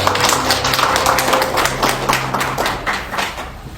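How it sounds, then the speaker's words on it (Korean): Applause from an audience at a disability voting-rights forum as a city council member is invited up, a dense steady patter of clapping fading slightly toward the end, with brief background voices. "큰 박수 부탁드리겠습니다."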